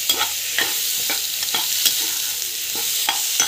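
Tomatoes sautéing in a pan: a bright sizzle runs throughout, broken by regular scraping strokes of a spatula stirring them, close and fairly loud, with no talking.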